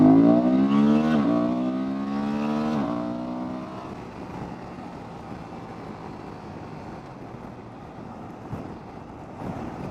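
A Honda Transalp motorcycle pulls away on a hill in the rain, its engine note rising in pitch through the first few seconds, then easing into a fainter, steady hum under wet road noise.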